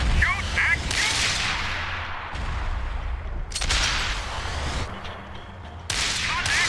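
Gunfire in Max Payne 3, sharp loud cracking shots arriving in separate bursts spaced a second or two apart, each with a whip-like snap and a lingering rumble behind it.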